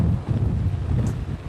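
Strong Hurricane Florence wind gusts roar and buffet the microphone behind a building, a continuous rumbling rush that swells and eases in uneven waves.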